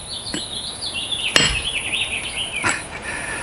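Knife blade chopping through a 16D nail: a sharp metallic impact near the middle, then a second strike later, both ringing briefly over a steady background hiss.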